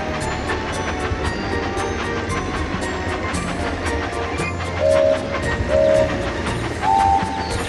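A toy-style train runs along track in the Thomas & Friends: Magical Tracks video game, with rhythmic clacking and chugging throughout and three short whistle toots near the end.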